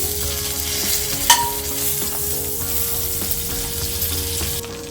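Butter melts in a pan for pav bhaji masala, sizzling steadily and fairly loudly with a constant frying hiss and a sharp clink near the middle.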